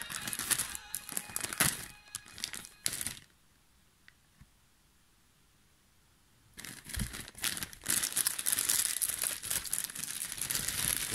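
Packaging of a Banpresto figure being unwrapped, plastic crinkling and rustling close by in two bursts with a quiet gap between them.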